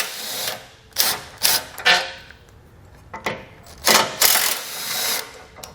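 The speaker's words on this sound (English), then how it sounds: "We're going to take it out with a 16mm socket." A 16mm socket ratchet loosening tow hook bolts on a 2020 Jeep Cherokee: rapid ratcheting clicks in several bursts of varying length, close and fairly loud, with no talking.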